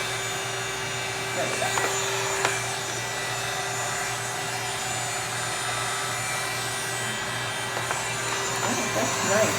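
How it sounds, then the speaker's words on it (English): Hot air brush blowing and humming steadily as it smooths and rounds out wig bangs, a constant close whir with faint brushing rustles, while a person speaks briefly. "This is our hot air brush, and it is just great for smoothing, rounding out hair"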